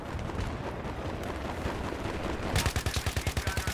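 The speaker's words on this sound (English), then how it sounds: "Oh, suppressing fire." Battlefield 3 suppressing gunfire with an AK-74 on Sharqi Peninsula: dense, continuous distant gunfire and blasts, then a loud close burst of rapid automatic rifle shots in an even rhythm at the end.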